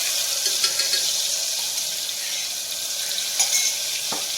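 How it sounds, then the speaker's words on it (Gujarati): Chili and garlic paste hits hot oil with cumin over a low flame, giving a steady hissing sizzle with a few light clicks and splashes near the end. "હવે આપણે નાખીશું મરચાં અને લસણની પેસ્ટ।"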